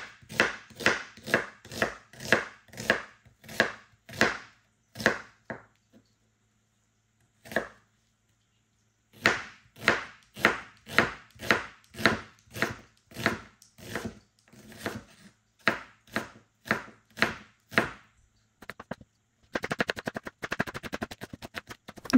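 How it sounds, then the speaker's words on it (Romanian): Rapid, evenly spaced knife strikes as onion is chopped on a cutting board for vinegret salad, steady bursts broken by a few short pauses, close and clear with no speech. "Ceapa la fel o tai cu buliețe."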